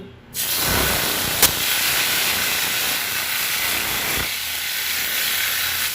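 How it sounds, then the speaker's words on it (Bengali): Gourd-leaf paturi parcels with prawns frying in hot mustard oil in a wok, giving a loud, steady hiss that starts abruptly and holds throughout, with one brief sharp click early on and no talking. "তেলটা গরম হয়ে গেছে, পাতুরিগুলো দিয়ে দিব।"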